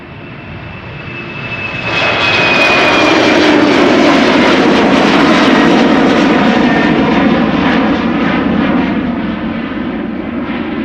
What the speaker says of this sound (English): KLM flight 1231 in the SkyTeam livery.